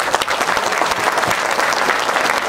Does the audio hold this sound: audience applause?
yes